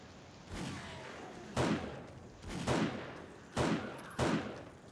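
Gunshots from a weapon in the survival game 7 Days to Die, four loud, sharp reports spaced about a second apart, each with a short decaying tail, and no voices over them.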